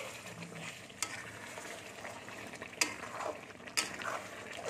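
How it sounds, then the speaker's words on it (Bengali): Matar paneer curry gets stirred in a pan over a soft, quiet sizzle, with a few sharp utensil clinks and scrapes against the metal. "এই দেখুন আমি একটু নেড়ে নিচ্ছি"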